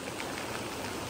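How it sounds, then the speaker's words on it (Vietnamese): Heavy rain pours steadily during the wet season in rural Vietnam, a dense, unbroken hiss of falling water that stays loud and even throughout. "Thời tiết mưa rất là nhiều bây giờ ấy."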